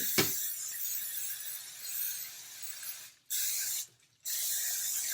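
Baking spray hissing from an aerosol can as a baking pan is greased, a steady close spray running in long bursts with two short pauses near the end.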